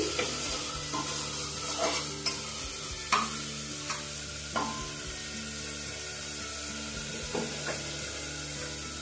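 A constant sizzle of onions frying in a pan, broken by occasional scraping stirs and light knocks against the pan.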